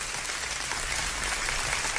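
Applause in a radio studio, a dense, even patter of clapping that stays steady throughout, with no talking over it.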